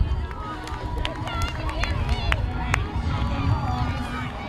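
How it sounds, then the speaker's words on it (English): Crowd of Dragon fans cheering and calling out at an evening 4K cross-country race as a runner finishes; steady outdoor crowd noise with scattered whoops and shouts, fairly loud throughout. "Hearing the Dragon fans cheer"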